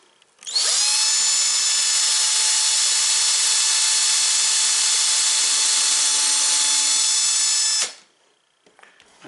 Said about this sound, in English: So I'm going to just drill 2 holes.